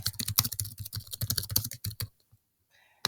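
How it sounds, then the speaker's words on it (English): Fast typing on a computer keyboard, a quick close run of crisp key clicks for about two seconds before stopping into near silence with a faint final tap. "I have to type it quickly"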